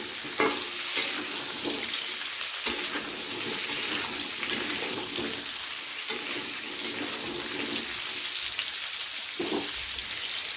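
Pumpkin and vegetables for a drumstick curry fry in a pan, a constant close sizzle with repeated scraping and clinking as they are tossed and stirred.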